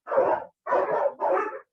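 Dogs bark in three loud, close bursts with short pauses between them, each bark rough and full, with no talking over them.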